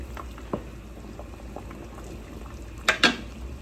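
Salmon soup simmers in a pot, a soft continuous bubbling with occasional louder pops and two distinct sharp clinks of a utensil near the end.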